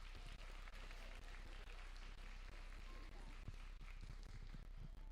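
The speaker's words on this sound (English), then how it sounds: "So everyone give her a round of applause," Audience applause at a SafeCity 2023 breakfast event, a steady patter of many hands clapping at moderate distance, with a low room rumble underneath and faint voices mixed in.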